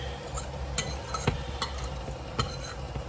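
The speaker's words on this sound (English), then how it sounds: "Just going to scrape all this marinade" Utensil scraping bulgogi marinade from a bowl into a pan, a handful of close scratchy strokes and light clinks in an uneven rhythm, with no talking.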